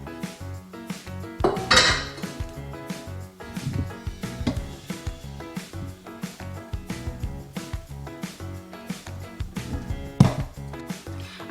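Pots, spoons and utensils clank and scrape as a homemade liquid laundry detergent mixture is transferred into a bigger pot, irregular metallic knocks and clinks over about ten seconds, close with no talking.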